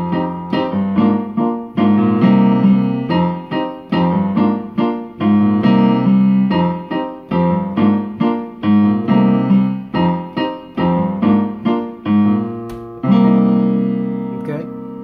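Solo piano playing a song, with pulsing repeated chords and a low bass line in a steady rhythm, loud and close with no talking.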